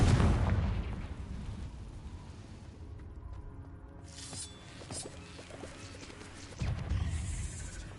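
A Confringo fire spell in the video game Hogwarts Legacy goes off with a loud, deep blast that rumbles and fades over a couple of seconds, followed later by a second, lighter boom amid quiet cave ambience.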